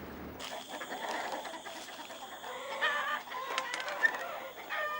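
Chickens tended by a young man in an urban enclave of the Amazon, clucking softly and steadily up close, with a few sharper calls over a faint background hum and no speech.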